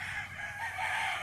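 A rooster crows in one sustained, loud call that fills the short moment, heard on its own without talk.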